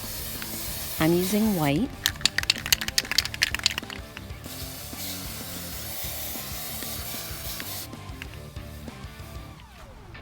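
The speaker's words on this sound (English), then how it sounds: "I'm using chalk spray, so it won't be permanent." Chalk spray paint hisses from a can in a long steady blast over a stencil, with a rattly burst of clicks near the start and someone speaking briefly over it.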